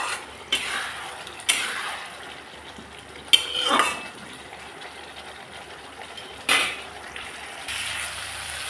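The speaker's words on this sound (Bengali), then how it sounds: "এইভাবে আমি মশলাটাকে আলুর সাথে কষিয়ে নিচ্ছি।" A spoon clanks and scrapes in a pan as masala is stir-fried with potatoes for a potato dalna, giving a few sharp metallic knocks over a soft sizzling hiss.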